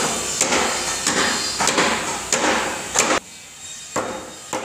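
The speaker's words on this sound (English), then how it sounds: "They're tacking them in place with a hammer" Hammer blows tacking metal mending plates onto wooden roof trusses on a straw bale house build site, a series of sharp repeated strikes at an uneven pace amid busy construction noise, with a quieter gap before the last few hits.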